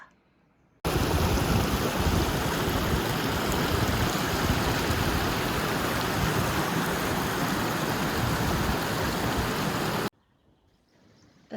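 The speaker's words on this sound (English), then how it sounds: "I can hear the river" A river in Portugal's National Woods of Leiria flows as a loud, steady broadband rush, continuous for about nine seconds and framed by near-silence at either end.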